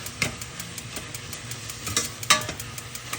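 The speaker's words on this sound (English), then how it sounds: "I'll fry this up a little" Guyanese saltfish mixture frying in a pan, with a soft, steady sizzle broken by a few sharp scrapes and clicks of stirring. It sounds close and fairly quiet, with no talking.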